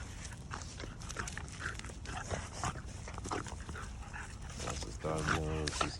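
American Bully puppies play-fighting, with scuffling, snuffling and small growly yelps running throughout, rising near the end into a louder whimpering cry, all under people talking close by.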